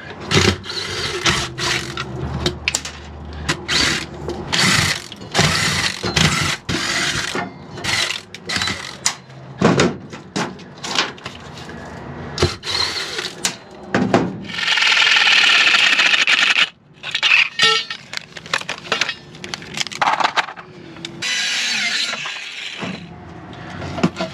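A Sawzall reciprocating saw with new blades cuts angle iron in rough, stop-start bursts of harsh metallic rasping and clatter, with a longer steady cut partway through. The sound is close and loud, with no speech.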